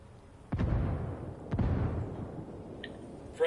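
Grenade blasts in Ghost Recon Wildlands, two deep booming explosions about a second apart with rumbling tails, followed by faint game sounds and a brief tone at the end.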